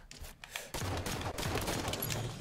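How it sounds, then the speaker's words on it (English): Rapid bursts of automatic gunfire from a Halo 5 SWAT multiplayer match, dense overlapping shots after a brief lull, loud and continuous with no talk. "We are getting shot at left and right."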